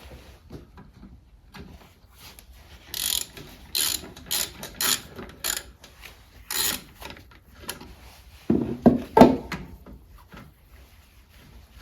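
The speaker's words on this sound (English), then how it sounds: "we'll start with the bolts on this side and take it off" Ratchet clicking in several short bursts while bolts are undone to remove a Motostandard 1010 gearbox, with metallic clinks of parts handled close by in a quiet workshop.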